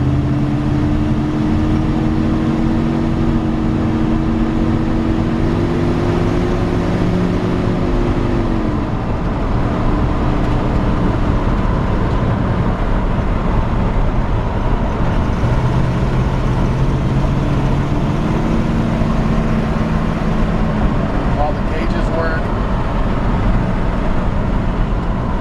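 1954 Chevrolet 3100 pickup truck driving, a steady loud engine drone with shifting tones as it revs, constant road rumble throughout.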